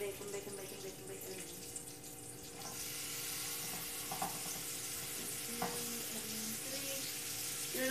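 Bacon frying in a hot skillet gives a faint, steady sizzle under a low background hum, with a few soft clinks and scrapes of stirring.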